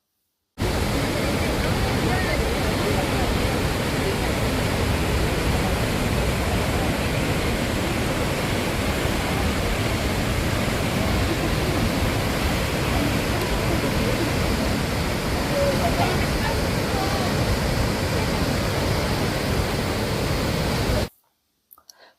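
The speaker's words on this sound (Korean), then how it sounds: "비 온 후라 수량이 풍부해서 폭포가 시원하게 내리꽂히는 모습을 볼 수 있었어요" Sambuyeon waterfall, swollen after rain, pours heavily in a loud, steady, unbroken roar of crashing water heard close by for the whole stretch, with no talk over it.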